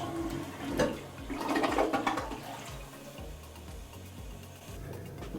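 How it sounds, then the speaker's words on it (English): Household toilet flushing after the fill tube is reattached to the flush valve; a steady rush and gurgle of water rises and fades over several seconds, moderately close, with no talking. "it'll put the necessary water back into the tube, which will then put it in the bowl and give us the correct height in the flush"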